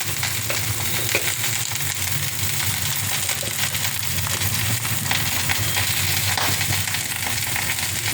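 Okra sautéing with turmeric in a pan over a low gas flame gives a steady, dense sizzle and crackle that runs unbroken throughout, close and fairly loud, with no one speaking.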